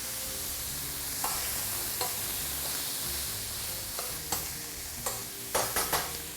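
A spoon tip scrapes and taps in a steel frying pan, breaking food into small pieces while it sizzles; a steady frying hiss runs throughout, with sharp scraping clicks that grow more frequent near the end.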